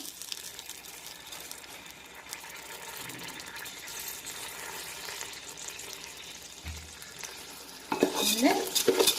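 Washed rice for fish biryani being stirred in ghee with whole spices, a quiet sizzle with soft scraping, then a louder burst of clattering and running water near the end.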